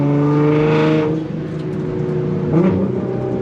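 Nissan GTR engine rumbling loudly up close, then a brief dip as it downshifts and a second rise in revs with a throaty, rising growl, no voices.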